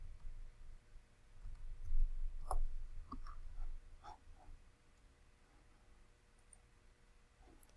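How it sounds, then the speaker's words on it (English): Scattered soft taps on a computer keyboard as letters are typed, a few quiet clicks spread over several seconds with faint background hum and no talk. "I'll just type in these letters here"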